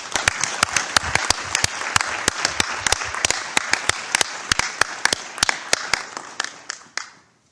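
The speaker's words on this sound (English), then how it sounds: "I would like each one of you to give a round of applause of appreciation" Audience applause at the global launch of the Red Card campaign, a sparse run of sharp, separate claps from a modest crowd, loud and steady before trailing off and stopping near the end.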